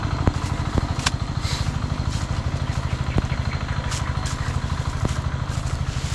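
A small engine drives an irrigation water pump on a farm, idling steadily with a fast, even chugging pulse and a metallic clatter throughout, close and continuous, with occasional faint clicks.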